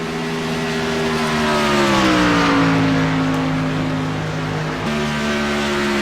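Race cars circling a track under caution behind the pace car, a steady droning engine tone that shifts pitch as the cars pass, with no talk.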